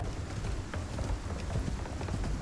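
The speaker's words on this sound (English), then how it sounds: "we've got a lightning storm coming in, guys." A lightning storm in the survival game Icarus brings dense, steady rain that hisses and patters evenly throughout, with a low rumble underneath and no voices.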